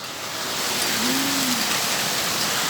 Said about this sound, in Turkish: çok fena yağıyor.